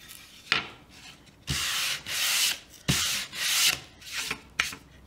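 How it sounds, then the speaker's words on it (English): Hand sanding of a Dollar Tree slatted wood sign surface, several close, rough back-and-forth strokes with short pauses and a few light knocks between, with no talk. "I'm going to go ahead and sand through just to give it an overall old pieces of boards look."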